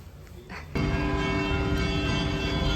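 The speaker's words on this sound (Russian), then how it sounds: "Даже здесь, на Владимирской, я застаю колокола, часовню." Church bells ring out on Vladimirskaya street in Saint Petersburg, a loud sustained peal that swells in abruptly and then rings steadily, close and dense, with no voices over it.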